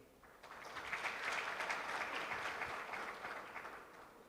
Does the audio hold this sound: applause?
yes